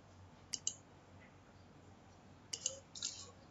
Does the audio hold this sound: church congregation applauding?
no